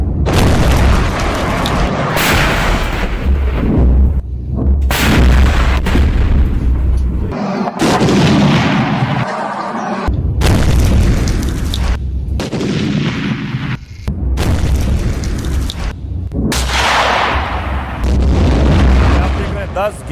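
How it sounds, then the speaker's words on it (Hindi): Blasts destroy Pakistani border posts along the Line of Control, with a series of loud, booming explosions recurring every few seconds. The rumbling detonations play under an excited news commentator's voice. "ये 11वीं चौकी उड़ा दी है, 12वीं चौकी उड़ा दी है पाकिस्तान की"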